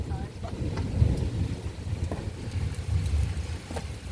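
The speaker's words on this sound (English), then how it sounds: "That's thunder." An outdoor thunderstorm with two storm cells: deep, low thunder rumbles roll under steady rainfall, swelling and fading throughout.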